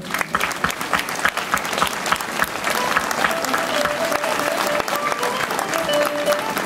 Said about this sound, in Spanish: Un aplauso para el director.